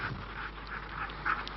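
A team of eight husky sled dogs at a race through a forest gives out a run of short, moderately distant yelps and barks, one slightly louder near the end, over a low steady background.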